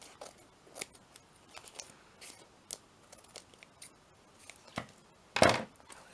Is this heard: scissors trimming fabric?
yes